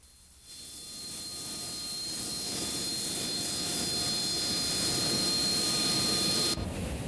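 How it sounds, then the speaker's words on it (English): An early-model AV-8C Harrier jet taxiing at a 1987 airshow at Moffett, giving a steady, loud jet engine roar with a high whine that swells slightly and holds, then cuts down near the end. "This particular Harrier that's taxiing out to the line now is one of the early models. It's an AV-8C."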